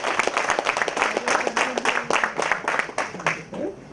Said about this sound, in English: Both the hands and clap to other person.